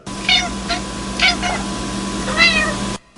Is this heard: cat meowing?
yes